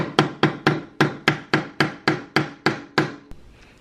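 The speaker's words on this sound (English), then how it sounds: "hammer it in so that it is flush too" Hammer tapping a part flush into a Juki DDL-8700 industrial sewing machine during assembly: about ten sharp, evenly spaced knocks close up, each decaying quickly, then a softer final tap.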